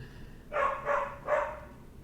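A dog in an anime episode barks three times in quick succession, each bark short and fairly loud, with no talking over them.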